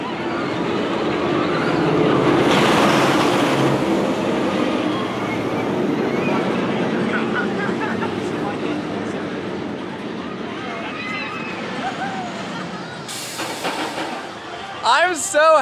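Intimidator 305 roller coaster at Kings Dominion, a steady roar of rushing wind and rumbling track throughout, swelling early and again near the end, with riders' voices and screams mixed in.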